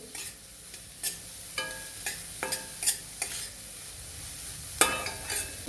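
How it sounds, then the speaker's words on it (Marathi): Three chopped onions sauté in oil for anda bhurji, a soft background sizzle punctuated by a regular series of distinct spatula scrapes and taps against the pan. "ते सर्व कांदे याच्यामध्ये टाकून घेणार आहोत छान कांदे पचवून घेणार आहोत"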